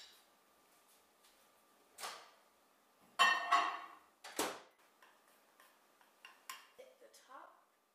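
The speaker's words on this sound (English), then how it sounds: "stirring until smooth." A spoon stirring melted chocolate in a bowl, giving scattered light clinks and scrapes with pauses between, close by and mostly soft.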